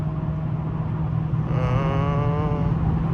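A car engine revs louder partway through while downshifting with paddle shifters, a rising steady drone that swells in volume near the microphone.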